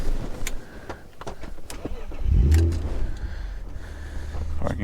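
A BMW E36 M3 engine cranks and catches, a sudden low roar swelling up midway after a few clicks and clunks, then settling into a steady idle close by.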